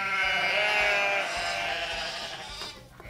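A sheep bleat plays from an animal farm sound puzzle toy: one sustained, wavering electronic bleat, loud and close, that fades at the end with no talking.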